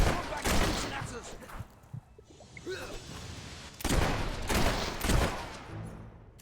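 Video game battle gunfire, a clatter of shots and bursts in dense volleys that alternate with brief lulls, mixed with shouted game voices.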